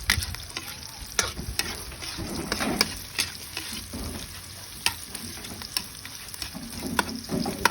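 Onion and ginger fry in a pan and are stirred now and then while cooking for a coconut-milk tilapia dish. A steady close sizzle runs under sharp scraping clicks from the utensil, with no talking.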